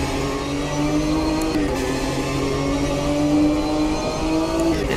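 Porsche GT3 race car in the Automobilista 2 racing game accelerating down the pit lane onto the main straight, a loud, steady engine drone with rising harmonics that holds throughout, no talk.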